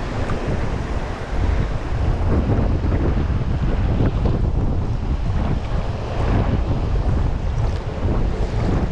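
Strong sea water rushing and wind buffeting a boat at sea, a loud, steady roar with wind noise hitting the microphone throughout and no talk.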